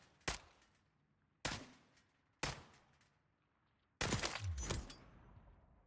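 Lachmann 556 rifle fired at a standard practice dummy in Modern Warfare II: four separate, loud, sharp shots spaced about a second apart, the last one followed by ringing impact and debris noise.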